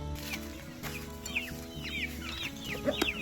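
Newly hatched quail and chukar partridge chicks give thin, high peeps and chirps in quick scattered bursts over a low steady background hum, fairly faint and close.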